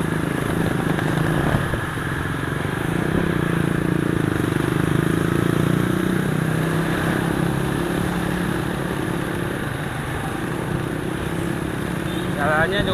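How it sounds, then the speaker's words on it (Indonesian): A motorcycle overtaking on the left on a concrete road, engine drone steady and moderately near beneath continuous road and wind noise, with a voice talking throughout. "Nah itu ada yang nyalip kiri itu mas-masnya"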